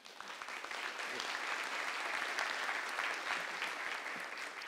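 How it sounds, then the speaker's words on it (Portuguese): An audience at an internet forum gives a speaker named Gilberto a round of applause, steady, even clapping that holds for several seconds, somewhat distant and moderately quiet. "Uma salva de palmas para o Gilberto"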